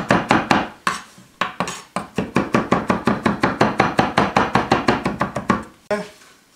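A knife chops garlic on a cutting board in a quick, steady run of about thirty sharp close knocks, with brief pauses near the start and a final pair of strokes.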